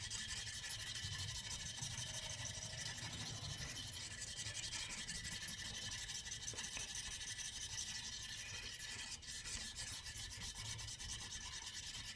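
A knife blade is worked back and forth on a fixed-angle sharpener at a 24-degree angle, moving through progressively finer grits. Quiet, continuous rasping strokes fill the whole stretch with no talking.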